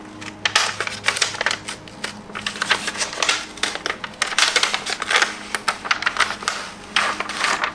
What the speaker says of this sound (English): let's go ahead and see if it will peel now. And it's coming up.